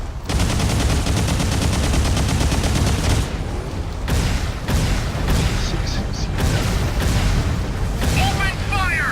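Mobile suits fire in the Mobile Suit Gundam: Target in Sight Federation campaign, a loud, dense barrage of rapid gunfire and booming blasts running almost without pause, with a voice speaking over it.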